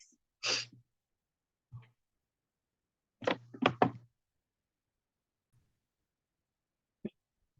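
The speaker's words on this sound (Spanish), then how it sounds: "una disculpa por esta tos que me está agarrando" A woman's cough, several short, dry bursts spread through a quiet room: a single cough, a faint one, then a quick cluster of three, and a last small one.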